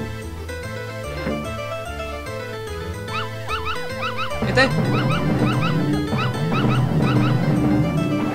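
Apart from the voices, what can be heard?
dogs barking in video game Earthworm Jim 2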